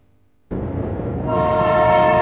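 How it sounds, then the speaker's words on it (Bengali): A train blasts its horn close by: silence, then a sudden loud, sustained tonal blare that swells further about halfway through and holds to the end. "কেউ থামাও ট্রেনটা।"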